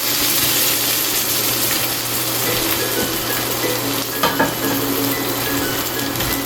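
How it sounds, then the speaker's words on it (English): Garlic frying in a hot pan with oil, a steady broadband sizzle running throughout, with a couple of brief scraping clinks of a utensil stirring near the end. "we put our garlic. And we mix it together."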